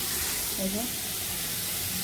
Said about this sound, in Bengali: পেঁয়াজ আর তেলে চিরা ভেজে রাখছি